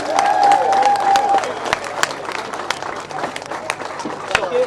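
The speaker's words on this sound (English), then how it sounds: "Let's give him another round of applause." Scattered hand claps from a crowd applaud grasstrack racers at the British Grasstrack Championships, sharp irregular bursts mixed with voices and background chatter.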